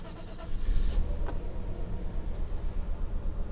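A Mercedes W126 engine turns over and settles into a steady, slightly rough idle, with a low continuous rumble throughout and a brief brighter burst as it catches.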